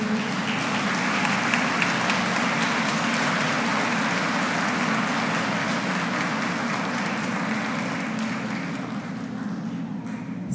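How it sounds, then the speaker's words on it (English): Sustained applause from a graduation audience at an academy ceremony as honorees stand, a dense, steady wash of clapping filling the hall for the full stretch and tapering slightly at the end. "please stand so that we give you one last round of applause"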